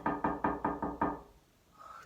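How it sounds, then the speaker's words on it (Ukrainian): Five evenly spaced knocks on a door, close and distinct, followed by a short lull with faint room noise. "Хтось стукає мені в двері."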